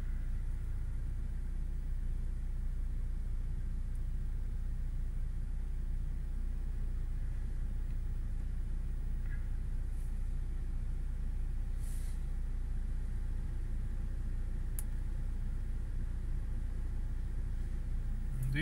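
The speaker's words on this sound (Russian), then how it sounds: "Двигатель очень мягко работает, очень приятно." A 2019 UAZ Patriot engine idles while warming up, a low, even rumble that holds steady throughout, fairly quiet and smooth, with only a few faint clicks.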